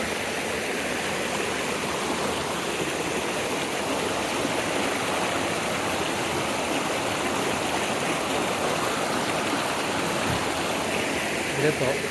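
A stream flowing from a waterfall makes a constant, moderately loud rushing wash that stays even from start to finish with little change.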